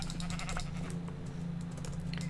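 Sheep bleat in the Minecraft video game, short repeated bleats over a faint background hum and light clicking, quiet and without talking.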